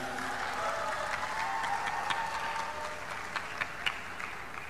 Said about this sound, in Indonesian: tepuk tangan dong untuk anak-anak sekalian.